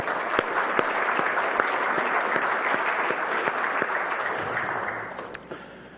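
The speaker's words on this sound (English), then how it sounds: "maybe offer a quick round of applause for Frank" Steady applause from a conference audience gathered for a Superstorm Sandy event, offered in honor of an absent colleague named Frank. It holds at an even level for several seconds, with a few sharper nearby claps standing out, then thins as it tapers off near the end.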